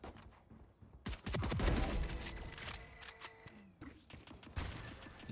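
A Raze grenade blows up during a Valorant round: a sharp, loud blast that rolls into a rumbling boom, followed by scattered crackling gunfire and game effects.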